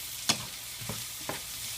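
Onions sautéing in a pan until soft and translucent, a faint steady sizzle broken by three soft stirring scrapes, the first sharpest.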